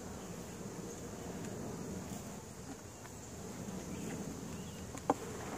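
Carniolan honey bees hum softly and continuously around an opened hive during inspection, a low steady buzz with one brief sharp knock near the end.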